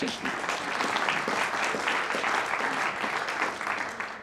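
Audience applause welcoming a speaker at a business ethics lecture, a full, steady wash of clapping from a sizeable crowd that holds for several seconds before tapering off, with a voice faintly over it.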